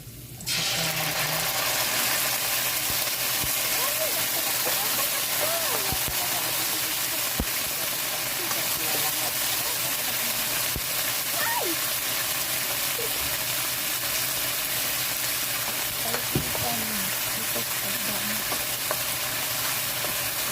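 Garlic frying in a pan until lightly brown, a steady broadband sizzle running unbroken throughout with faint occasional clinks; some speech may be faint underneath.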